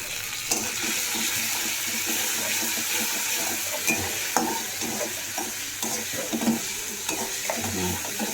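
Taro with salt, turmeric, chili and cumin is stirred in a frying pan, giving a steady loud sizzle broken by repeated scraping stirs and light clinks throughout.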